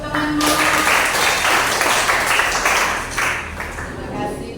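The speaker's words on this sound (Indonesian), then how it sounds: "Oke, aplaus untuk temanmu." Students in a classroom clap for a classmate, a steady broadband patter of many hands lasting several seconds at close range and fading slightly toward the end, with a little talk mixed in.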